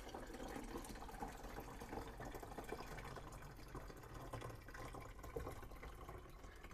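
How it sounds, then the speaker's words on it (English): Water pours steadily into the tank of a Hava countertop dishwasher, a faint continuous splashing and gurgling fill heard close up without talking. "grab the first tank of water and see if we can get up here and fill it"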